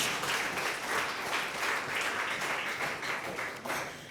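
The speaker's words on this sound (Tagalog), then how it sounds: "Ialay natin yung malakas na palakpak sa Panginoon." A church congregation claps together during a Sunday service, a steady, fairly faint wash of applause lasting about four seconds with no talk over it.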